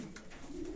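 A soft, low coo from Grimme-line racing pigeons in a loft, rising and falling briefly, close and faint, with no voices.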